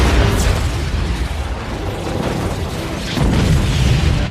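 A powerful explosive round blows up a transmitter held by aliens, a loud, dense rumbling blast that holds steady and swells again near the end, with mechanical clanks in the roar.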